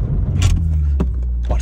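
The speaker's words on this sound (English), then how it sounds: "drive on a dirt road, brake hard." A car braking hard on a dirt road: a steady, close engine rumble with a few short bursts of scraping and crunching from the tyres over the loose surface.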